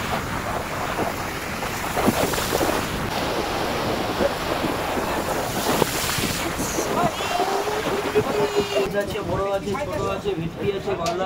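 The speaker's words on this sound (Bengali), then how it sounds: "এখান থেকে জল কেমন সুন্দর উঠে আসছে।" Sea waves wash up on the shore at Digha Mohona beach near a fishing harbor. A continuous rushing surf is roughened by heavy wind noise, and voices of people talking come through over it.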